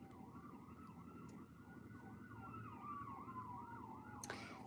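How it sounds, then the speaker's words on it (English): An emergency siren passes outside, a faint, distant wail rising and falling in a steady repeating sweep over a low background hum, heard alone without any talking. "do you hear that siren?"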